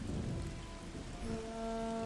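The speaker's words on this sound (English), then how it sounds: "It's kind of unnerving with all the rain and stuff." Heavy rain pours in the Age of the Ring strategy game, a dense steady hiss with a low rumble like distant thunder, no voices.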